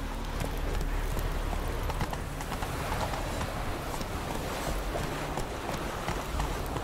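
Hoofbeats of Roach, a horse galloping in The Witcher 3, thud continuously through a dense wash of ambient game noise, fairly loud and unbroken, with no talk.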